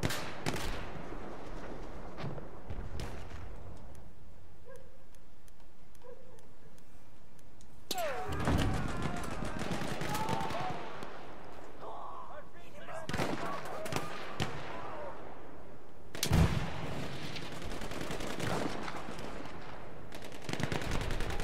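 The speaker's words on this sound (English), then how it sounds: "these guys putting some solid fire down on each other" Sporadic bursts of gunfire trade back and forth during a 32-versus-32 hardcore conquest match on Xbox One. Several loud clusters of shots rise out of quieter stretches while a commentator talks over the action.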